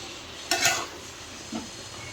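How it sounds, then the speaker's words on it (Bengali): Pointed gourd (potol) with prawns stirred in a pan, one short scraping, sizzling stir burst followed by a faint second scrape over a quiet background. "দিয়ে দিচ্ছি পটল ভালো করে নেড়ে চেড়ে নিচ্ছি"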